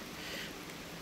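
Steady rain pours outdoors at a car showroom, a dense even hiss of drops on the surface with no pauses, fairly close and alone without any voices.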